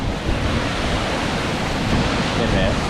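Small waterfalls in a state park give off a steady, full rushing of water that stays even and continuous throughout, close by and without pauses.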